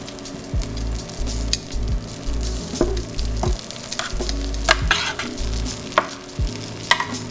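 Bacon caramelizing with bourbon alongside Brussels sprouts sizzles steadily in a pan, with repeated scraping stirs and clinks from a utensil, close and fairly quiet, no talking.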